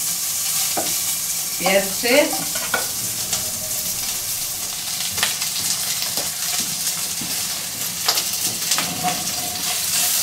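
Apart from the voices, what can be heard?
frying pork cracklings in a pan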